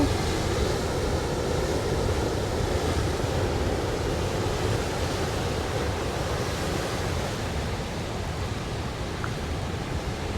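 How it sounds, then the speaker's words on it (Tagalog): Ocean surf at Red Rocks Reserve, New Zealand, a steady, loud roar of breaking waves with constant broadband wash and wind, no talking. "laki ng alon"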